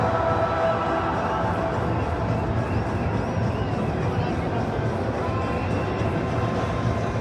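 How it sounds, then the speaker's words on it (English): Faithful stadium crowd of cricket fans at the 2025 Champions Trophy, a steady dense roar of massed voices and chanting filling the whole stretch at constant loudness, with speech mixed in. "you may well be able to hear the singing of this very faithful crowd"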